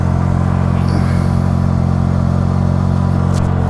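A Can-Am Maverick R off-road vehicle drives with a loud, steady, deep engine drone heard from close range, with some clatter and no talk.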